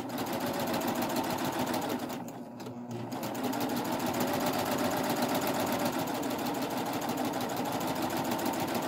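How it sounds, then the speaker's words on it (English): A Baby Lock 8-thread serger stitches a knit hem in one steady, loud, whirring run that dips briefly near the three-second mark before resuming at full pace. "So then go ahead and stitch all the way around."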